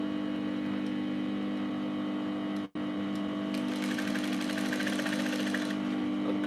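A sewing machine stitches darts on the back panel of a straight skirt, humming steadily and close by, briefly pausing midway before picking up again with a brighter rattling whir.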